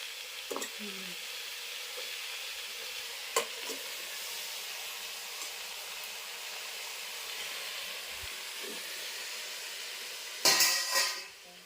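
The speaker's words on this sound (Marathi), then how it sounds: "तर आता भाजी हलवत आहे" Jackfruit vegetable dish stirred in a pan over a wood-fired chulha: steady soft sizzle with occasional scrapes and clinks of the spoon against the pan, and a louder clatter near the end.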